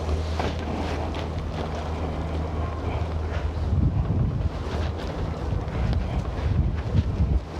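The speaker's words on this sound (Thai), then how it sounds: "นี่นะจ๊ะออกมาทอดข้างนอกก็ลมอย่างนี้และจ้ะ" Strong wind buffets the microphone outdoors during cold weather while chicken skin is fried, with a constant low rumble and gusty roar, louder gusts toward the end; faint voices may be underneath.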